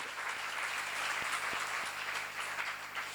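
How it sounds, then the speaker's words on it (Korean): Audience applause rises at a Korean church seminar on Nahum and Habakkuk, a steady wash of many hands clapping with a few sharper claps standing out, continuous and fairly close throughout. "권세자들은 여러분 나에게 선을 이루라고 하나님의 사자로 세운 것이시면 박수로 맞아주세요"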